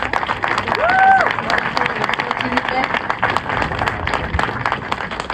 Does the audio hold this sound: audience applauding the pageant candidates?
yes